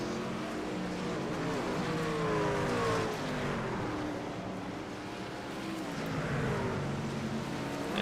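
Racing trucks run on the Knoxville track, their engines a continuous roaring drone that swells and fades as they pass, with no voices over the noise.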